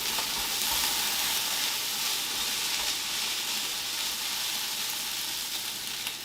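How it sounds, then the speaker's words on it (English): Potato fries in hot lard with a steady, dense sizzle and crackle that holds evenly throughout, close and fairly loud, with no voices. "I'm basically frying it in the lard"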